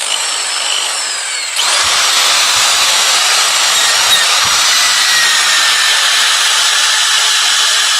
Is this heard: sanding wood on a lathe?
yes